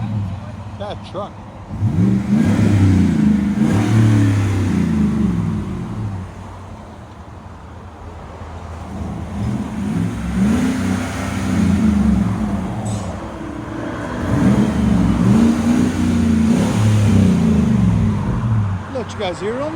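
Repeated revs from a 2016 GMC Sierra Denali's 6.2L V8 through a Borla Pro-XS muffler give a low, smooth rumble in three broad surges separated by quieter idle gaps, with faint traffic in the background.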